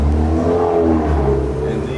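A BMW E92 M3 exhaust fitted with a small baffle chamber gives a deep, steady low rumble at close range for about two seconds.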